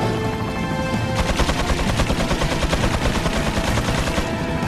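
Heavy machine gun fire in the Gamecube game Resident Evil 4, a loud, dense rapid burst that runs continuously with no talk, preceded by a brief rumbling lead-in.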